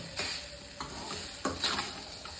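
Cooked samba-style rice being mixed in a vessel, with soft, close scraping and stirring strokes repeating at an irregular pace and no talking.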